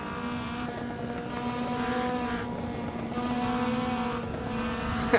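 A racing car's engine and exhaust drone steadily in the Assetto Corsa driving game, with a sustained tonal hum and harmonics that rise and fall slightly over several seconds of traffic weaving, no voices present.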